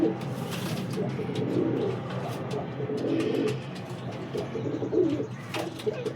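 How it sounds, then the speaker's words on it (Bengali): Pigeons coo steadily in a loft during hot weather, their low throaty calls overlapping continuously from near by, with faint chirps and distant background noise. "পায়রা খুব গরম হয়ে আছে।"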